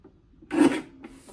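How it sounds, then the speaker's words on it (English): A paper trimmer blade slides across cardstock in a single short rasping cut, close and dry, with a faint scrape trailing after. "Rotate the 2-inch piece and trim at 4 1/4."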